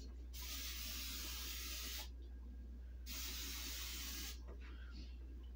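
Cooking oil sprayed onto a cast iron pan over a kitchen sink: two steady hissing bursts of about two seconds each, separated by a short pause, close and fairly loud against a quiet room.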